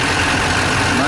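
A Duramax diesel pickup engine, freshly fitted with a repaired AC compressor clutch, idles with a steady, loud broadband rumble close by, unbroken for the whole short stretch.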